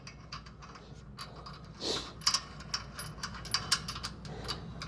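A washer and nut fitted onto a bolt at the bottom of a Hoist V4 Elite gym machine make small metallic clicks and ticks, with a short rattle near the middle, close and fairly quiet.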